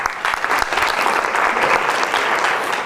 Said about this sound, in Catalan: Feu un aplaudiment.